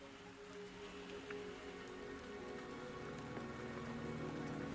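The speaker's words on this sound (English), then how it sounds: "Don't worry, the rain won't last much longer." Rain falling in the video game Wuthering Waves, a soft steady patter of drops on surfaces that holds evenly throughout, quiet and without voices.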